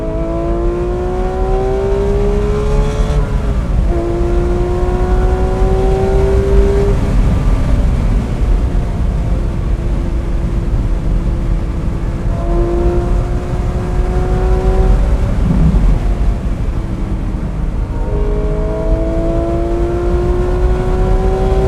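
A Porsche 911 GT3 S/C engine revs hard and climbs through short gears, its pitch sweeping upward again and again between quick shifts. The loud, sustained mechanical howl stands alone with no talking.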